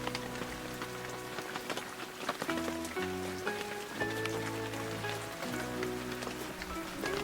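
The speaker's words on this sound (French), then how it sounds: "Mais la pluie se met à tomber" Steady rain patters on a surface with scattered drops, mixed with soft tonal music in the background.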